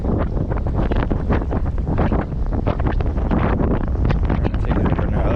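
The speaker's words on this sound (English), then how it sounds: "This wind is perfect for a jerkbait. Maybe even a little too windy" Strong gusty winter wind buffeting the microphone while bass fishing, loud rumbling blasts that surge and fade continuously, with no voices.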